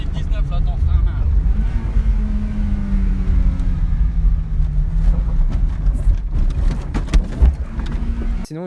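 A cheap old petrol car, a Renault 19 bought for 150 euros, runs roughly and sputters up close, its uneven engine note rising and dipping steadily with loud low rumble and a few sharper bursts near the end.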